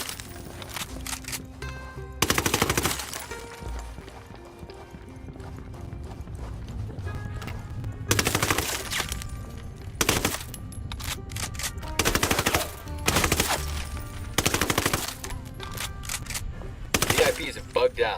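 Gunfire in the video game Ghost Recon Wildlands: several loud bursts of automatic fire break through a steady busy game soundscape, recurring every few seconds.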